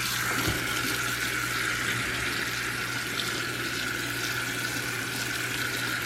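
Water from a kitchen tap runs steadily into a sink while food is rinsed, a constant close hiss and splash with a faint low hum beneath and no talking.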